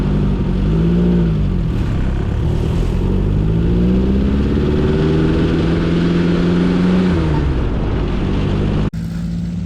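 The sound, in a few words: dune buggy engine revving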